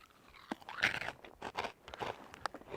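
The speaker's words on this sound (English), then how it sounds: "And these things, listen to the crunch." Crunchy cheddar snacks crunch between the teeth in several sharp, close bites followed by irregular crackling chewing, with no talking.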